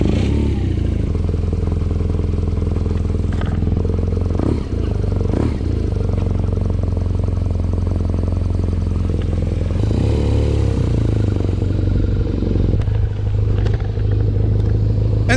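Motorcycle engine running loud and close throughout on a hot summer road, a steady mid-range drone with a rise in pitch near the end as the bike pulls away and accelerates.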